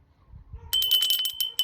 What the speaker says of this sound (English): And then a little blue and white bell.